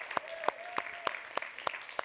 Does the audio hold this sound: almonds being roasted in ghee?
no